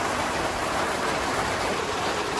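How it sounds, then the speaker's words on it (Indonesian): Rain falls in a steady, dense hiss with no breaks, close and even throughout. "Hujan bagja euy."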